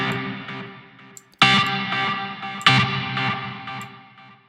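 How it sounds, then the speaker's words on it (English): Organ chords from a classic rock patch run through a distorted amp with heavy reverb, two loud stabs ringing out and decaying into a long echoing wash. "that reverb is a little bit too much"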